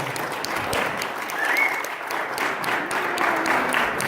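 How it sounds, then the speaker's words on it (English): A crowd applauds at the Aquaman exhibit opening at the Warner Brothers Studio Tour Hollywood. The clapping is sustained and dense, moderately loud, with a faint voice briefly audible beneath it. "Big round of applause."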